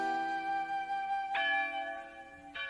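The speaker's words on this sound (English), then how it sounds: "But why are church bells ringing on Monday?" Church bells ring in a Mickey Mouse cartoon, with two or three sustained, resonant tolls layered over one another, fairly faint and distant, with no voices.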